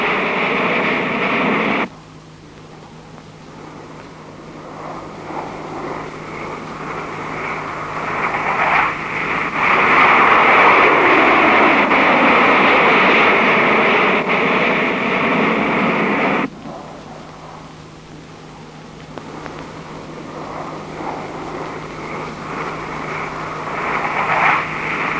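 Fighter pilot training aircraft fly overhead in formation, a broad roaring engine wash swelling and fading over many seconds with hiss like old film or radio static.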